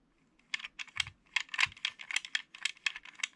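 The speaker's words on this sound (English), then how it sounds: "which you can tell by that clicking noise" A button hidden inside the wheel of a Boonboom Changer toy clicks repeatedly, a rapid run of sharp, close, light plastic clicks with small pauses between bursts.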